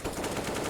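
Rapid AK rifle gunfire during a CS:GO esports tournament match, a dense sustained burst of shots heard loud and close for under a second.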